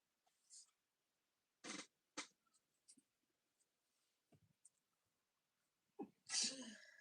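A single sharp sneeze near the end, preceded by faint scattered rustles and small noises in an otherwise quiet room.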